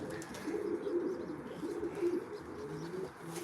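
Racing pigeons bred for 300 to 400 mile distances coo in a steady low murmur from several birds in a loft, continuous and moderately close, with no talking.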